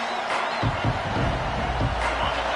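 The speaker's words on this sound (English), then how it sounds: "This crowd trying to show them what it's going to be like all day in this house." A packed crowd at a Utes college football game roars in the stadium right after the opening kickoff. The noise is a steady, loud wash, with the play-by-play commentator talking over it.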